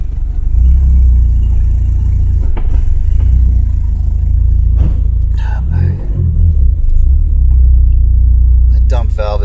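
Modified drag-built Audi TT out on a road test, steady low engine rumble and road drone throughout, fairly loud and close, with a brief shift around the middle and a short voice near the end.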